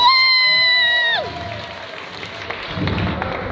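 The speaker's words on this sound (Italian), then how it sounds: "Facciamo un bel applauso a Silvia" An audience at a live dance company show applauds after a sustained held tone cuts off, the clapping and crowd noise building from a faint spread into fuller applause by the end.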